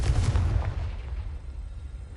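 A Confringo fire spell blasts in Hogwarts Legacy, a heavy booming explosion with rumbling low-end crackle that fades over about two seconds, with no talk.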